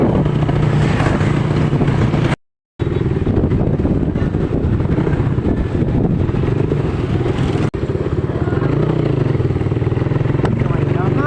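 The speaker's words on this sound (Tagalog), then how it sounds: "Ang ganda ng motor mo dyan, ah." Steady, loud motorcycle engine drone with wind buffeting on a ride, briefly cutting out for a moment before resuming, constant and close throughout.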